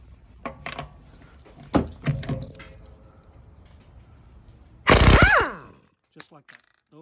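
A Husky 1/2 inch stubby air impact wrench on a 60-gallon compressor hits a lug nut torqued to 80 foot-pounds with one loud, dense hammering burst that winds down quickly, after a few sharp clicks of handling.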